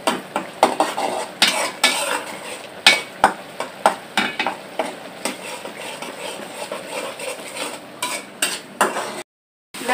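Spice paste for a pangas fish curry sizzles in a hot pan while a spoon repeatedly scrapes and clatters against the metal, a steady rhythm of stirring taps over the frying hiss.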